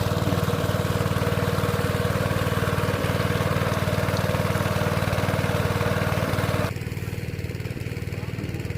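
A small engine-driven pump drains a fish pond that has gone three years without being pumped, its steady close chugging drone running unbroken and dropping to a quieter, thinner hum near the end.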